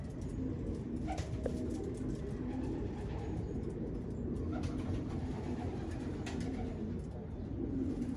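Soft pigeon cooing under a steady low rumble, with a few faint bird calls scattered through the clip.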